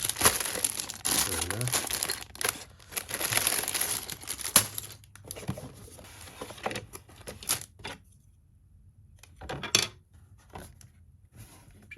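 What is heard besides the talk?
plastic bags of Lego pieces crinkling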